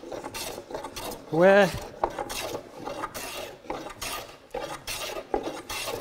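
A hand plane shaves along a flat wooden board in repeated rasping strokes, close and fairly loud, with brief pauses between passes and one sharper squealing stroke near the start.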